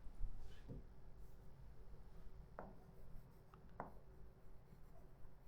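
Chalk or pen writing on a board or paper during a lesson, a few short faint scratchy strokes spaced apart over quiet room noise.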